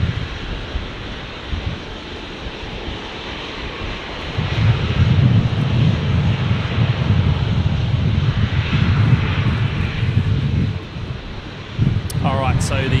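A Jetstar Airbus A321neo in new livery on final approach to runway 19 Left at Brisbane, a broad airliner roar swelling and holding steady mid-clip over outdoor wind noise before easing.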